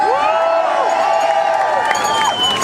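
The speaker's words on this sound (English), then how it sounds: "that gets a huge round of applause" A large crowd at a political rally cheering and whooping loudly and continuously, with a dense wash of voices and clapping close around.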